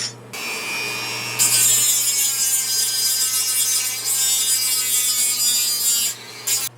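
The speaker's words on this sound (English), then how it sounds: "So I'm going to go ahead and grind that out and take that crack out of it and smooth it out." Power grinder cutting a crack out of a Piper Super Cub wing rib, a harsh, bright abrasive grinding that runs steadily for several seconds close by, over a low motor hum, before cutting off.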